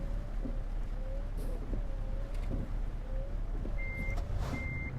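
Truck reversing alarm in Euro Truck Simulator 2, a steady series of evenly spaced beeps over a low engine rumble, with a couple of brief higher electronic tones near the end.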